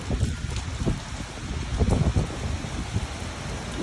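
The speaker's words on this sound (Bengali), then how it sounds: "বৃষ্টি আওয়াজ শুনতেছে" Heavy rain during a tornado storm in New Jersey, a dense continuous wash of rainfall with gusty wind rumble swelling and easing, steady and close.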